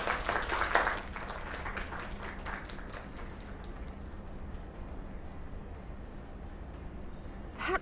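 A crowd at a small gathering applauds, clapping strongest in the first second, then trailing into scattered claps and a low murmur of room noise.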